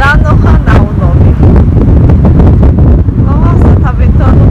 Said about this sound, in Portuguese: Nossa, tá ventando muito.